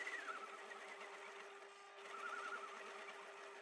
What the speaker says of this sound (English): I'm going to do my best to just sew around her twice.